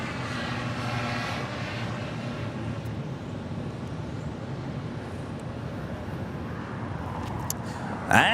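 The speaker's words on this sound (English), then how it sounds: "Delta Airlines Flight 479 coming up from Boston on the 757-200" Delta Air Lines Boeing 757-200 at LAX, its engines giving a steady, moderately loud broadband roar that holds evenly throughout, with a brief louder burst at the very end.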